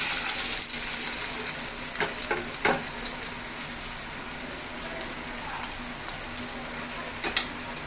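Water pours into a pot holding a kilogram of rice, six measures for three measures of grain, as a steady close hiss and splash with a few brief knocks of the vessel.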